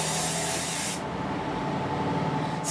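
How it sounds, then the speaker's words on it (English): Hairspray, a strong-hold 'Big Sexy Hair' product, sprays in a loud, steady hissing burst near the mic for about a second, followed by quieter rustling and a faint second spray at the end. "we're just going to give it a final spray"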